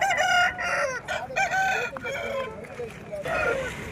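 An aseel rooster crows repeatedly at the Gudur chicken market, loud and close, with other fowl clucking around it and someone talking over the calls.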